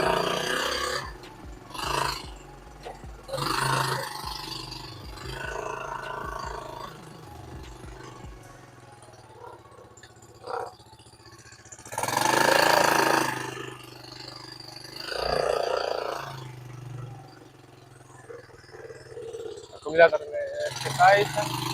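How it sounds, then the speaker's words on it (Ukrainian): A vehicle engine that stood in a yard for two years is revved in several rough, roaring bursts separated by idle, close and loud, with someone talking between the revs. "Так, газую."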